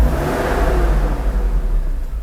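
Mercedes R129 500SL engine running with cylinders 1, 4, 6 and 7 not firing, a loud, close, steady mechanical drone that swells briefly as it revs, with no voices.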